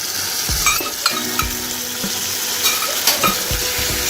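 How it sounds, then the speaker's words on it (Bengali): Ginger, garlic and chilli paste masala fries in a pan for a spiced dal dish, giving a close, steady sizzle broken by repeated knocks and scrapes of a stirring spoon against the pan. "ভালো করে কষিয়ে নিতে হবে"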